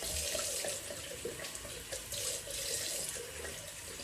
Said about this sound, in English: Give the brush a rinse.